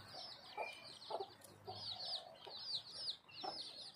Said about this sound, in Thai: วันนี้ช่องมุทรโฟก็พามาดูไก่ดำเนาะเยอะมาก